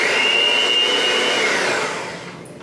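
An electric mixer whirs steadily and loudly as it beats butter into banana cake batter, a constant motor drone with a high whine that winds down near the end, no voices over it.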